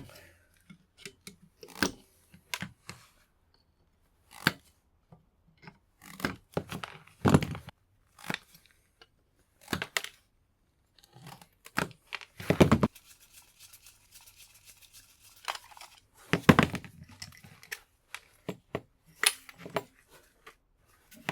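Scrap copper pulled from old medical equipment is trimmed with cutters, giving a series of sharp, irregular snips and crunches close by, separated by quiet gaps, with brief rustling of the material between cuts.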